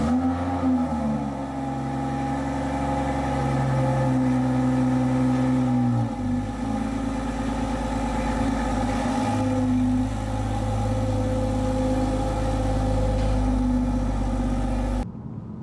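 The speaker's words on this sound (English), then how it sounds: "pull a brand new BMW out of the showroom" A brand new BMW wagon's engine hums steadily at low revs as the car pulls out of a showroom, with a smooth rise in engine tone partway through and no talking.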